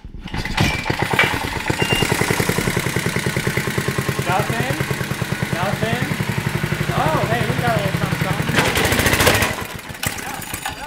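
A modified small engine runs loud and close, buzzing steadily and then climbing as throttle is applied before cutting off near the end, while people talk over it.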